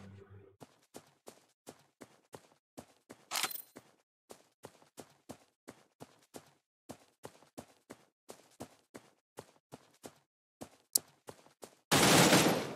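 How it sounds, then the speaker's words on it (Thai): Rapid, even footsteps in the Cyber Hunter video game tap in a steady run, with a couple of sharper shots mixed in and a loud burst of noise at the end. "เสียงเท้าอยู่ข้างหลังนี่เลยครับ"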